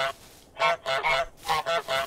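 Cartoon geese in Untitled Goose Game honk loudly and close, five or six sharp nasal honks in quick uneven bursts with no talk over them.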